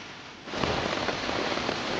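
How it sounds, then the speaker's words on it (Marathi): Heavy rain pouring down in the Konkan countryside begins abruptly after a brief quiet moment, then a dense, close, continuous roar of drops on surfaces holds steady to the end, with no one talking. "पाऊस बघा किती लागतो"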